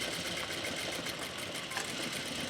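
A sewing machine back stitching the folded half-inch hem of a cloth face mask, a steady, rapid needle chatter running continuously and close without pause, with no voices.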